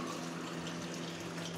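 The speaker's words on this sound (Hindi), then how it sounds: "पानी ज़्यादा गर्म है तो इसमें और पानी मिला देंगे ठंडा" Cold water is poured steadily into a container to mix into rice flour dough, a continuous close gushing and trickling under a low background hum.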